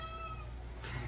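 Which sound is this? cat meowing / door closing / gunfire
cat meowing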